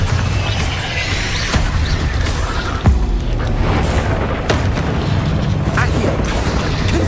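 Spell blasts in the Hogwarts Legacy video game, including the Bombarda spell, heard as a dense run of booming bursts and pops. One sharper blast stands out near the middle, over a constant loud game soundscape.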